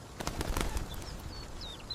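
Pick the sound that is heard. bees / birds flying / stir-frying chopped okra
birds flying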